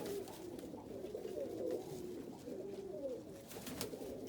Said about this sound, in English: Actually, they're all young birds sitting on the ground.